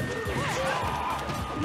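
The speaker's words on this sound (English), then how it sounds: "That juicy up smash" A juicy up smash attack lands in Super Smash Bros. 4 during a doubles match, a short crashing hit amid constant game effects and crowd noise.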